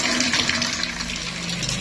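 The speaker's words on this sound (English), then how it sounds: "lagyan na muna natin ang tubig itong timba para magdilig na tayo ngayon ng umaga" Water runs steadily into a bucket being filled for watering plants in the morning, a continuous close gushing splash with no talk.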